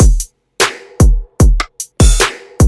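A drum beat with a wave-shaped, saturated kick: booming low thumps with bright snare and hat cracks in a steady, loud, sparse pattern, with short silences between hits and a sustained tonal hum under some beats.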